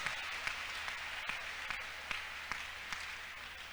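A church congregation claps for Jesus at a praise service, a thin scattering of hands with a few sharper individual claps standing out at uneven intervals, fairly quiet and with no one speaking over it.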